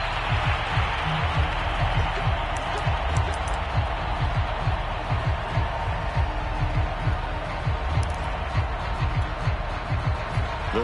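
A stadium crowd roars in the Madden football video game during overtime, a steady, dense wash of cheering and noise that holds at an even level throughout.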